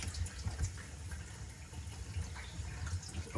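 A Hansgrohe Laminar kitchen faucet runs steadily, a soft continuous rush of water with faint splashing into the sink, moderately quiet and unbroken, with no voices.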